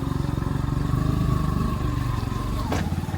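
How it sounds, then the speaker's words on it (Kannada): A motorcycle engine putters loudly nearby with a steady pulsing rhythm, then cuts off abruptly near the end. "ಅಡ್ಡ ಬರ್ತದೆ ಬೈಕ್"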